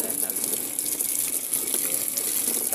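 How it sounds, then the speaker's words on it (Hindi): Water runs steadily from a tap fitted with a pipe at a washing spot, a continuous hissing gush with no pauses. "पानी दे रहा है नल से"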